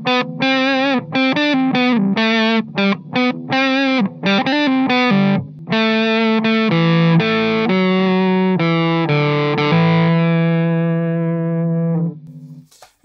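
Guitar driven through a Danelectro French Toast octave fuzz pedal chops out a quick run of staccato distorted notes, then settles into longer sustained fuzzy tones that fade away, with no talking.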